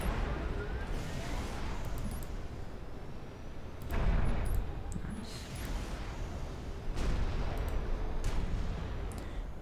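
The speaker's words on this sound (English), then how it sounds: "My battleships are firing." Battleships in the strategy game Supreme Commander pound away with artillery, heavy rumbling volleys booming every few seconds over a constant low roar of battle.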